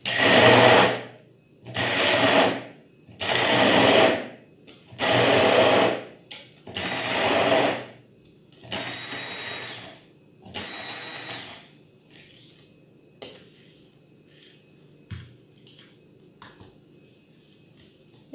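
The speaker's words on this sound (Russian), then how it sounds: "Берем блендер" A kitchen blender whips sugar and berries in a run of about seven short pulsed bursts, loud and close, then trails off into quieter clatter and faint handling noises.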